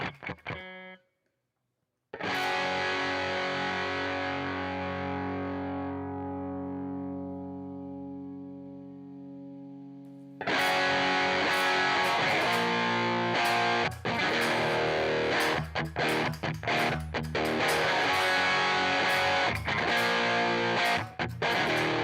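A Stratocaster electric guitar with heavy distortion through a Quad Cortex, starting with a brief stab, then a long sustained ringing chord that decays, followed by dense, loud, driving rhythmic riffing.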